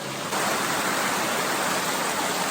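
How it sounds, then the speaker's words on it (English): A waterfall on a Black Prince Mountain hiking trail in Kananaskis Country makes a constant, close, full rushing hiss of falling water, steady and unbroken from start to end. "And now I'm here at this waterfall."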